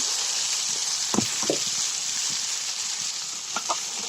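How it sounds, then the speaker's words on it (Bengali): Chopped okra (bhindi) frying in a hot pan: an even, moderate sizzle throughout, broken by a few light knocks of a spoon, with no talk. "এখানে ঢেঁড়স কুচি করে করে কেটে রাখছি আমি, সেগুলা দিয়ে দিব।"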